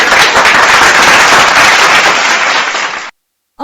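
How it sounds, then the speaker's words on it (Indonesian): Loud, dense applause and clapping welcome a guest on a podcast, a steady wash of hands for about three seconds that stops abruptly. "Aplaus dulu."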